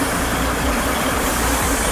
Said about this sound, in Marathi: हे बघा ही ट्रेन आहे